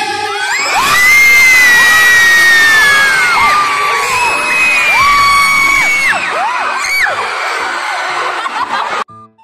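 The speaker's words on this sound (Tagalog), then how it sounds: "Pag natawag nga po ang pangalan ng school mo ay sumigaw nga daw po." Students at a school stage play event shouting and cheering as a school name is called, a loud sustained burst of high-pitched whoops and screams from a large young crowd, lasting about nine seconds before cutting off abruptly.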